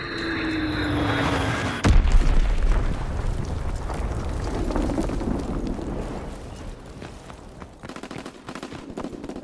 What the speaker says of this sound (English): Dropping Fritz X bomb.